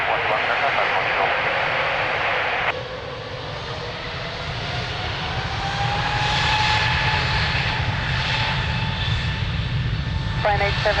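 Airliner engines run at Lisbon Airport for a runway 02 takeoff, a steady loud roar with a rising tone that stays under radio chatter and a voice talking throughout.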